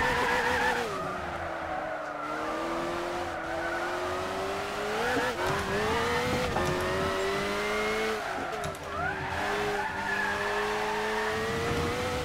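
Race car engine with tire squeal and skidding in the racing game Gran Turismo 6, a Lamborghini-style 650LP or 700LP. A sustained engine drone shifts pitch up and down, with screeching tires throughout and a steady, fairly loud level.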